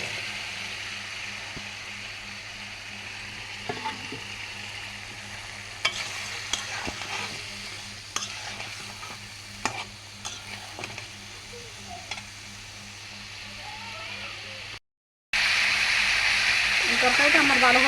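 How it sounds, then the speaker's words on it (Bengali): Vegetable stems and potatoes frying in spice paste, with a continuous close sizzle and repeated clinks and scrapes of a spoon stirring the pan, a brief dropout, then a louder, brighter burst of hissing frying. "ডাটা আর আলুগুলি দিয়ে দিতেছি।"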